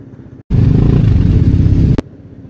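Motorcycles set off on a group ride from a motorcycle shop in Santo Tomas. A loud, steady engine roar rises abruptly after a brief silence, holds for about a second and a half, then cuts off.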